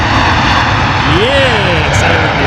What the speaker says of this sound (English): Air India A350-900 coming in.